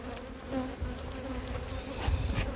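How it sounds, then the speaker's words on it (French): A swarm of honeybees buzzes around a beekeeper working an opened hive, a steady close drone with individual bees passing near. "j'en ai un essaim autour de moi là"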